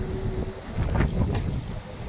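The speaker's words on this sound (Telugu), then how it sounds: "ఇటు సైడ్ బాగా గాలి బాగా వస్తుంది" Wind blowing strongly at an open outdoor spot, buffeting the microphone with a low rumbling roar that swells in the middle, with no talking.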